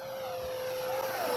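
An E-Flite F-15 RC model jet streaks past fast, its steady high-pitched whine growing louder across the short pass with no voices over it.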